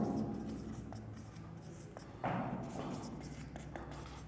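Marker or chalk writing on a board while a circle is drawn during a conic sections maths lesson, with soft repeated scratchy strokes and occasional taps, close and moderate in level, under faint background noise.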